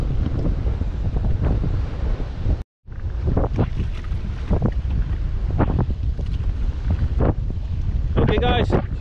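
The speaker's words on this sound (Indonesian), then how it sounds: "Angin agak kuat lah. Angin selatan." A strong south wind blows at sea around a fishing kayak, roaring as constant, dense buffeting with a brief dropout partway, while waves wash nearby and faint chirps come in near the end.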